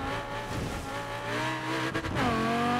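A Lamborghini's engine in Forza Horizon 4 holds a steady, loud drone while driving on snow, its pitch climbing gently, then briefly dipping as it shifts before revving higher again.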